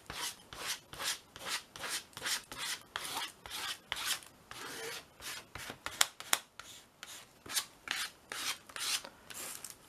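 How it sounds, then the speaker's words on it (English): A card scrapes paint across a mixed media collage in repeated rhythmic rasping strokes, about two per second, faint and close with no voices. "Let me just see if I can just scrape some of this across."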